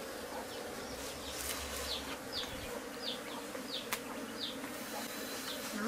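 Bees swarm and buzz steadily during a bee-catching outing, a dense, continuous drone with individual insects whizzing past close by, heard alone without talk.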